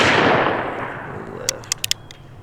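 A single loud shot from a Cimarron Bisley .45 Colt revolver fired outdoors, its blast decaying over about a second, followed by a few faint metallic clicks.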